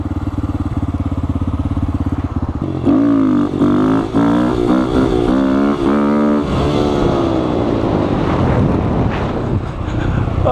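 A Honda Grom motorcycle engine revs hard and pulls through wheelies, rising and falling in pitch with a steady broadband wind rush over the microphone, loud and close throughout.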